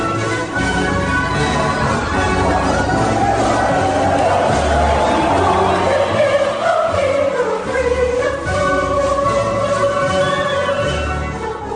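A large crowd of followers welcoming Jesus on his arrival in Jerusalem with branches and palms, staged as an audio drama effect: a continuous, loud roar of cheering and voices rising and falling.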